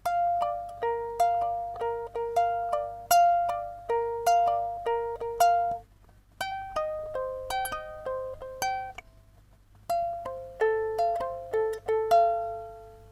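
A ukulele picks out a riff, a clear solo line of bright plucked notes repeating in short rising and falling phrases, with brief pauses between sections.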